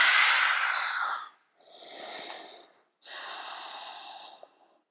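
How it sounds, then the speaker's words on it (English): Slow, breathy open-mouthed exhales during a yoga forward fold, three airy whooshes in sequence, close and soft, separated by short silent pauses. "Open your mouth, exhale and dive forward."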